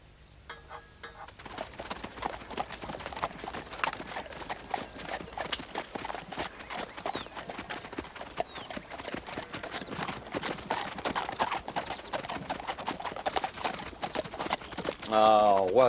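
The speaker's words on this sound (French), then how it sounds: "Ah, Watson, mon cheval boite." Lame horse walking, hooves clip-clopping in a steady uneven rhythm over a long stretch, moderately close, with a voice briefly at the very end.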